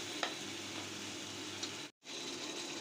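Frozen tomatoes and spices fry together in a pan, giving a faint, steady sizzle with a few light stirring taps and a brief dropout near the end.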